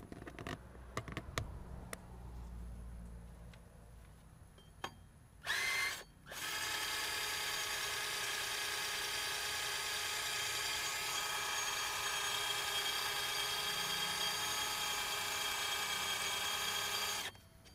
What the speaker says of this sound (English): Putting pressure on the rear of the drill.